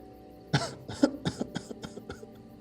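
A series of about six sharp, deliberately forced coughs in quick succession, loud and close at first, then tapering off in strength.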